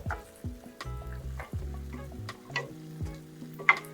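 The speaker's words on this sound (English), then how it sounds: "And now it's time to add our stock." Mushroom risotto in a pan as stock goes in, with soft sizzling and stirring that come in short bursts over a quiet tonal background.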